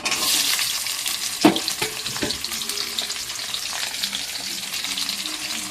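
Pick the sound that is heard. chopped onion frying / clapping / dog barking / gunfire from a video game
chopped onion frying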